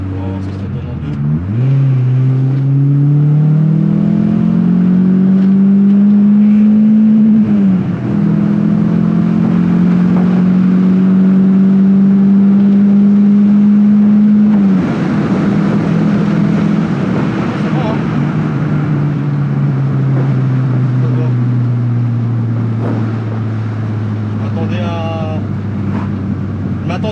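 A Volkswagen Golf 2 GTI 8S engine revs loud and close in second gear, pitch climbing steadily, dipping at a shift, then climbing again over a long pull, with someone talking over it.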